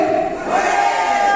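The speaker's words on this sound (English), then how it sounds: "So if both the families cheer together, it'll be for both of them." Wedding reception guests at The Corianthians Club & Resort in Pune shout a loud hooray together, a brief, close, sustained group cheer ringing out with no other talk.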